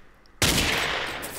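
A single gunshot from the blocky first-person shooter game Ace of Spades bursts in abruptly after brief quiet, loud and close, its noisy crack and wash sustaining for about a second.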